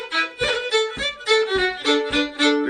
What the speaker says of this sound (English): So for us, we're playing Cooley's, it sounds like this.